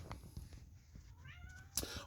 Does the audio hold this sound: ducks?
no